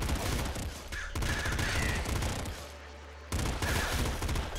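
Triple blood gun weapon firing in the Nuclear Throne video game, a dense burst of loud, rapid shots and explosive bursts with a short lull in the middle before the barrage resumes.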